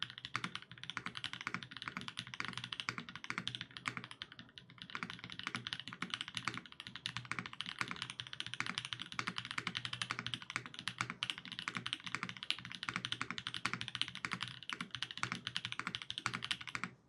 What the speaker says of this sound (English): I'll be going into a sound test, so I hope you like how this keyboard sounds